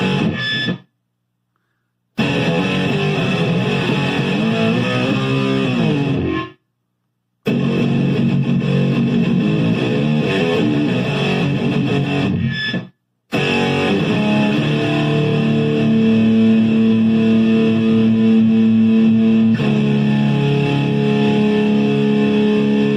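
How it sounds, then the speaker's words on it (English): Electric guitar played through a Donner White Tape stereo analog delay pedal with the amp's distortion switched on, giving sustained gritty overdriven chords and notes that ring out loudly, broken by a few brief silent gaps. "you get the distortion."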